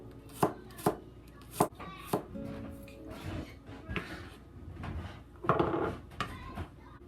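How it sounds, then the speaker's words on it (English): A kitchen knife slices through garlic on a cutting board with several sharp, distinct chops separated by pauses, fairly close, and a little soft handling noise between strokes. "We cut the garlic, we cut this part off. We slice it."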